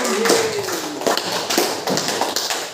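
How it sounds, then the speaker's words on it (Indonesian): A classroom or lecture audience breaks into brief applause, a dense patter of hand claps that carries on steadily for a few seconds and stays close and fairly loud. "aplaus untuk kita semua"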